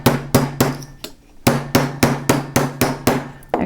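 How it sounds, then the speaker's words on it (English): A soft blow hammer strikes a metal fold flat on a bench block, about ten loud, evenly spaced close blows with a short pause after the first few, each thud ringing briefly before the next. "I'm going to have my soft blow hammer, and I'm going to just hammer that down."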